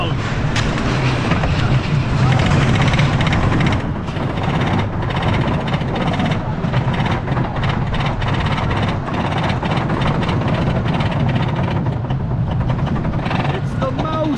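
Wild Mouse roller coaster at Lagoon Amusement Park in Farmington, Utah, heard from the front seat, a loud continuous rumble and clatter of the car on the track with wind noise, rattling jolts, and riders talking and reacting throughout.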